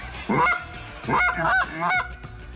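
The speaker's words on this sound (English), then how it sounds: "One is just to take your Canada goose call." A Canada goose call is blown by a hunter in three distinct, close, loud honks, each a rising, nasal blast separated by short pauses.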